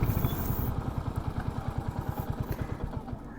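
A Royal Enfield Hunter 350 motorcycle idles nearby after off-road riding, its single-cylinder engine thumping in a steady, even pulse for a few seconds with no talk over it.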